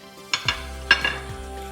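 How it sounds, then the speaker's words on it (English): Butter sizzles in a frying pan with a steady low hiss, broken by a few sharp clinks and scrapes of a utensil against the pan. "So my butter is sizzling"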